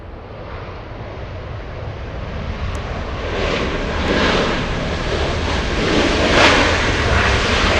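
A jet airliner taxiing on taxiway Kilo at Los Angeles International Airport before departing for Frankfurt, heard as a steady, distant engine roar with broadband rumble that slowly swells, no talking over it.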